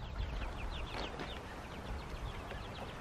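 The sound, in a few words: chickens clucking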